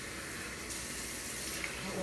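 A bathroom faucet runs steadily while someone washes their face, a soft continuous hiss of water heard close and fairly quiet.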